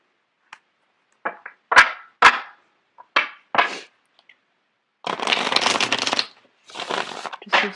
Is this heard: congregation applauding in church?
no